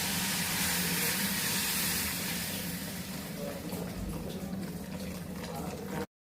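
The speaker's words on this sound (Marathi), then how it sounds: "भाजलेल्या रव्यामध्ये गरम पाणी टाकलं आहे।" Hot water poured into roasted semolina gives a steady, loud hiss and splash that runs for several seconds, then eases slightly toward the end before cutting off.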